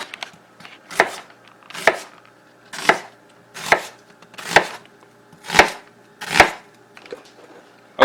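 Knife chopping chicken and turkey on a cutting board for stuffed burgers, seven or eight sharp chops in a steady, unhurried rhythm, close and clear with quiet pauses between strikes.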